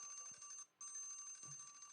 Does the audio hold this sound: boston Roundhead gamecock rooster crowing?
no